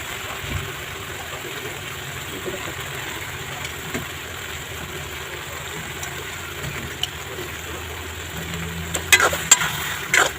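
Chickpeas fry with spices in oil in a pan, giving a soft, steady sizzle with a few sharper stirring clicks toward the end.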